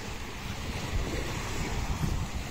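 Sea waves wash against the shore in Spain while wind rumbles across the microphone, a steady low roar with soft surging swells and no talk.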